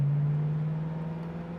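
A 1964½ Ford Mustang convertible pulls away in first gear, its engine a steady, close, low droning hum that holds level throughout with no voices.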